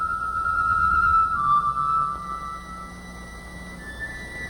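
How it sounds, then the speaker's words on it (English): A wind-up mechanical toy bird from a classic cartoon sings a nightingale song, a thin high whistling warble that glides between pitches over a soft musical backdrop, with no talking. "It's the song of the nightingale."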